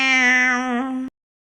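A single long cat meow, imitated by a human voice in a Spanish children's story, sounds clear and close before it cuts off abruptly into silence.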